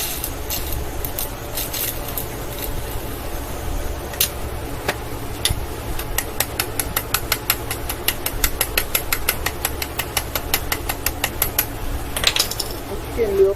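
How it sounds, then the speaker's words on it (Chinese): Electric arc welding on an office chair gas-lift column at low current produces a continuous crackling buzz with rapid, regular snapping pops, close and fairly loud throughout. "那我们接下来进行电焊"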